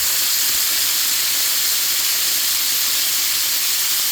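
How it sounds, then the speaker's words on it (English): A pan deglazed with dry white wine lets out a steady, loud, bright hiss of sizzling and steam that holds evenly without pause. "Now I'm going to deglaze the pan with a little bit of dry white wine"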